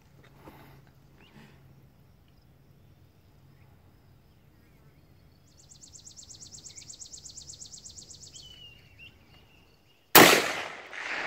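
A Mosin Nagant rifle fires a single loud, sharp shot near the end, preceded by quiet outdoor ambience with a rhythmic insect-like trill and faint birdsong.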